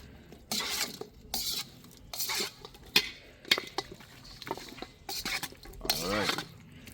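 Jerk pork is stirred together with green seasoning and scotch bonnet pepper in a bowl: scraping spoon strokes, wet squishing and clinks against the dish in uneven bursts, close and fairly quiet.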